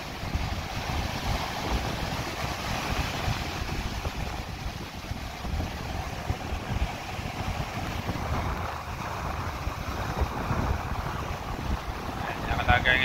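Strong typhoon wind roars and buffets the microphone while big waves churn at sea, a constant loud rushing wash.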